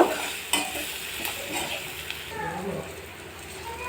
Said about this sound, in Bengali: এবার সবগুলো খুব ভালো করে একটু লাল লাল করে ভেজে নেব।